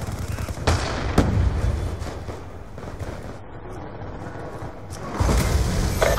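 M27 rifle fire in Call of Duty Black Ops 2, suppressed and fitted with a target finder: scattered sharp shots and short bursts over rumbling battlefield ambience, louder near the start and end.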